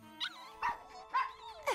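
Four short, high-pitched puppy yaps spaced evenly across a couple of seconds, each a bright, close bark with a rising-then-falling tone, with brief quiet between them and no talking.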